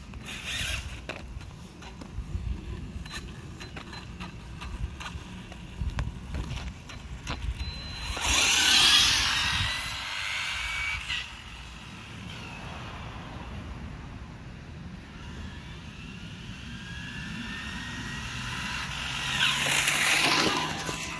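An Arrma Infraction RC car on a marked 132-foot drag-racing stretch, its electric motor whirring and whining through passes, rising to louder surges around the middle and near the end, with no talking.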